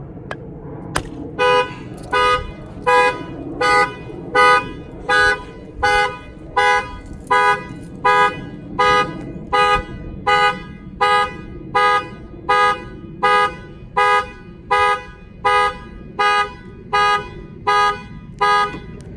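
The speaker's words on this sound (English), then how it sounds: "he'll get a text alert that the alarm is going off in the truck" A truck's car alarm blares in a steady repeating pattern of short, loud electronic tones, cycling rapidly and evenly throughout with no talking.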